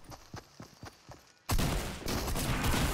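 Fortnite gunfire: a handful of sharp, separate shots ring out at moderate volume, then a sudden loud burst of rapid fire and impacts takes over, dense and close.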